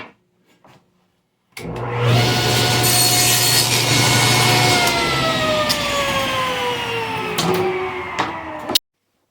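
A table saw whines up and cuts through wood for several seconds, its pitch dropping under load before it stops abruptly.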